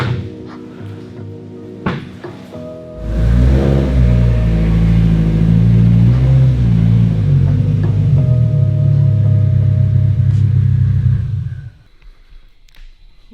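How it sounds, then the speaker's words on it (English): A built Mitsubishi Evo X turbo engine, raised on a lift after an oil change, revs hard and steadily for about eight seconds, loud and close, then drops back to idle. "Listen to that turbo."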